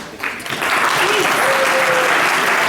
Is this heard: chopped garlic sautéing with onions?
no